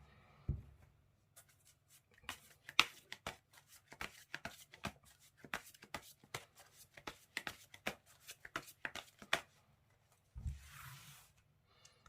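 Tarot cards being shuffled and laid out in a series of crisp, close flicks and snaps with an irregular rhythm, followed by a brief soft slide of the deck near the end, with no talking.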